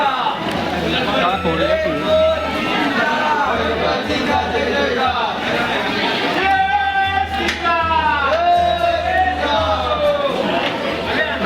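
Dense crowd of pilgrims at Bhimashankar Jyotirlinga temple, steady loud murmur of many voices with scattered calls and shouts over a constant low hum, continuous throughout.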